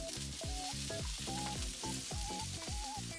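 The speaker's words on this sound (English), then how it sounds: "then I grill the garnishes a few minutes more" Garnishes and Japanese leek grilling in a pan give a steady soft sizzle, while a rhythmic melodic backing plays over it throughout.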